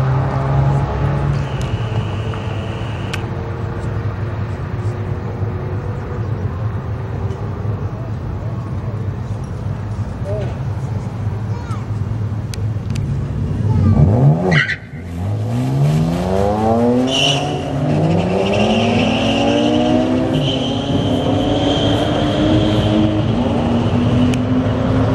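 Toyota Supra at St Thomas Raceway Park on a street-legal Friday night test-and-tune, a race engine roaring and revving under steady crowd chatter, with a loud close pass near the middle followed by rising and falling engine sweeps.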